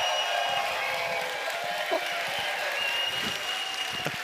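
Audience at an evening mathematics lecture applauding after the talk, a steady moderate clapping from a room-sized crowd, fairly even throughout, with faint voices underneath.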